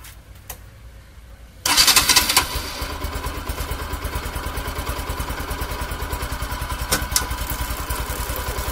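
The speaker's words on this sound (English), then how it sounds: "we'll do it by actually starting the bike" A motorcycle engine cranks briefly, then catches and settles into a steady, close, rapid idle with a fine mechanical clatter, running alone without talk as the bike is started for chain cleaning.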